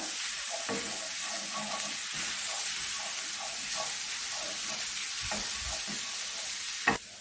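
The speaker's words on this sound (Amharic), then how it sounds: "ይሄ ጓደኞቼ ይሄ ነጭ ሽንኩርትና ዝንጅብል ነው። ከዛ ያንን ጠብሰዋለሁ ማለት ነው።" Garlic and ginger frying in a pan give a continuous loud sizzle and hiss with occasional stirring scrapes and pops, close up, with no talk.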